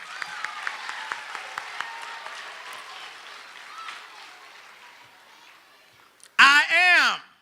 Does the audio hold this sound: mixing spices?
no